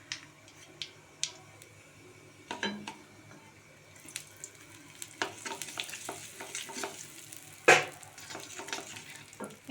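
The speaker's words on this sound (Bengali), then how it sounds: "এরপর আমি এর মধ্যে দিয়ে দিচ্ছি একটু ঘি, আর একটু হিং।" Ghee and asafoetida sizzle in a frying pan for green pea kachori filling, with a soft steady crackle and scattered sharp clicks of a spoon stirring against the pan.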